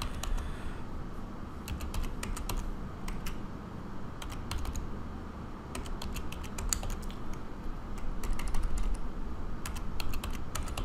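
Fingers tap a computer keyboard, entering a mobile number in quick irregular bursts of close, crisp keystrokes separated by short pauses, with a low background hum.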